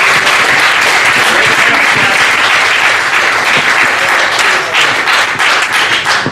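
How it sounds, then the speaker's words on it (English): Loud, dense clapping from a comedy club crowd at a roast, continuous applause holding steady across the whole stretch with no talk over it. "Raise your hands, clap, do something."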